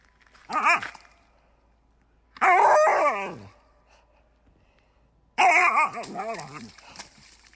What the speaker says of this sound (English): just a happy, happy, happy dog.